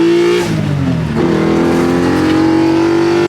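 BMW E30 with an S54 engine swap and a 4.10 limited-slip differential pulling hard in second gear, loud in-car engine drone with a brief dip at a shift then a steadily rising rev, continuous and close.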